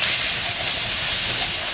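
Garlic sizzles in hot oil for spaghetti sauce, a loud steady hiss close by with no other sounds.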